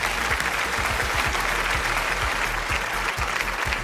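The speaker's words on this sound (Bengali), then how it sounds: "আজকের বিজয়ী দল মন্ডল ফ্যামিলির জন্য আবারও একটা বড় হাততালি" A studio audience at a Bangladeshi family game show applauds the winning family team with sustained, dense clapping that holds steady from start to finish, with no talking.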